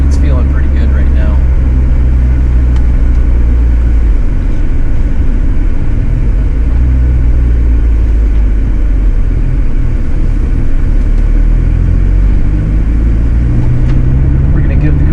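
A Merkur XR4Ti engine idles while warming up, a loud, steady low rumble that holds for the whole stretch with slight shifts in pitch, close by with voices talking over it.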